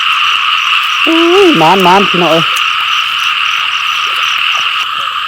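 Frogs croak in a short burst of several rising, warbling calls over a steady high insect drone, with someone speaking briefly nearby.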